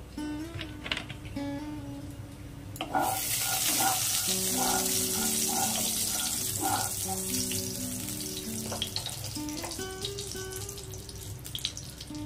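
Hot mustard oil bursts into a loud sizzle in a heated pan, then settles into a steady hissing crackle with faint tones in the background.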